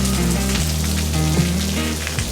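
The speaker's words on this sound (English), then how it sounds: "And it's starting to become freezing rain." Freezing rain falls on a vehicle driving Highway 12 near Bryce Canyon, making a steady close hiss over a low, shifting engine hum with no talking.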